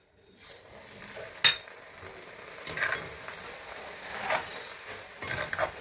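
Poha (flattened rice) frying in a small pan for a bakery-style mixture, with a steady soft sizzle throughout and a few sharp metallic clinks of a utensil stirring against the pan.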